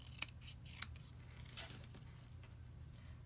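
Two quick, crisp snips of scissors cutting paper card pieces in half for a layered fancy fold card tag, heard close over a steady low hum.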